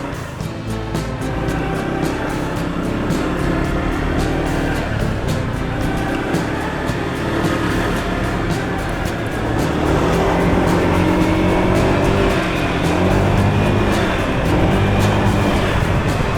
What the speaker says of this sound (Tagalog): Painitin din natin itong motor, si Red Gulapa.